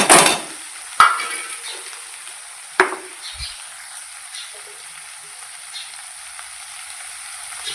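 Tomatoes drop into a hot frying pan with turmeric, red chili powder and coriander-cumin powder, setting off a sharp hiss and a few distinct thuds, followed by a steady, fading sizzle close by.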